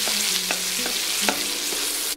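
Ginger, garlic and two medium tomatoes fry in a pan for shahi paneer, a steady close sizzle with a few soft stirring clinks and scrapes, no talking.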